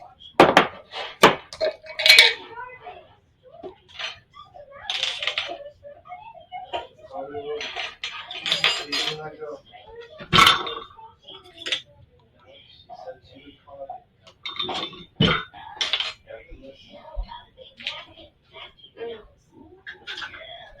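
Metal measuring spoons and utensils clink and tap against bowls while cinnamon bun dough is mixed in a home kitchen, coming in short scattered bursts amid a voice talking.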